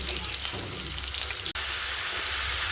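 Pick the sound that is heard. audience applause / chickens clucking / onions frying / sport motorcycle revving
onions frying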